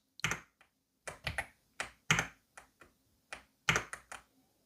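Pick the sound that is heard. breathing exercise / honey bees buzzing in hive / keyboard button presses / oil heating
keyboard button presses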